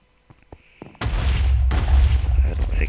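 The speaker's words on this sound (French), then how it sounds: "Donc ça explose déjà." A Minecraft PvP explosion booms after a second of quiet small clicks, a loud, deep blast whose low rumble stays sustained and heavy to the end.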